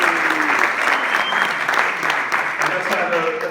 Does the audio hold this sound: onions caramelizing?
no